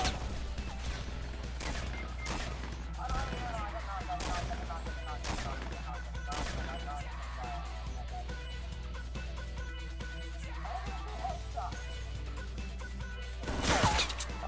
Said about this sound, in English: I'm getting shot at from the top.